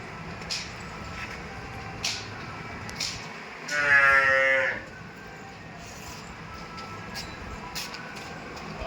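A single cow moos once, a low drawn-out call lasting about a second, amid faint outdoor background noise.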